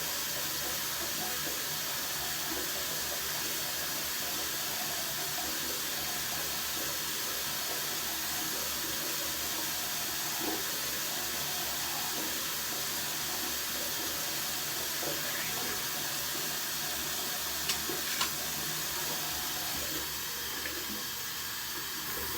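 Water runs steadily from a bathroom tap while a razor is cleaned, a continuous close hiss with a few faint clinks and no speech.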